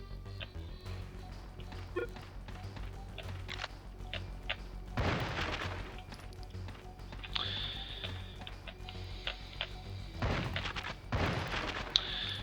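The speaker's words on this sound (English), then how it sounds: "shoot this stuff for some ammo" Gunfire and small explosive bursts in the PS1 game Duke Nukem: Land of the Babes as objects are shot for ammo, with scattered clicks and shots and two louder blasts over a low game soundtrack.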